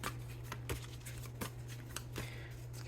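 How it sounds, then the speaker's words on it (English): Tarot cards being shuffled by hand in a steady series of riffles and soft flicks, close and fairly quiet over a low constant hum, with no talking. "Let's get one more good shuffle in here"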